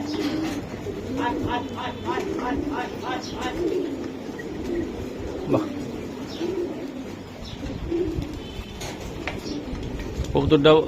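Soft repeated cooing of racing pigeons, including black pied birds, close by, with scattered chirps and people talking over them throughout.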